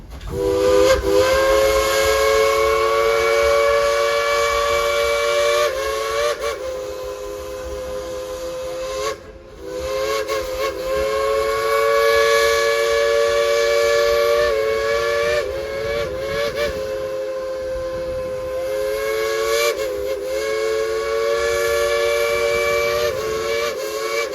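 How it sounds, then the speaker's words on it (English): A steam train whistle at Dollywood theme park blows loud and sustained in several long blasts with brief breaks, its bright chord-like tone ringing over a steady hiss. "blow the whistle!"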